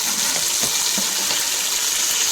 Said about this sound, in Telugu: ఆనియన్ ఇలా ఫ్రై అయిన తర్వాత టమాటాలు కూడా వేసుకోండి.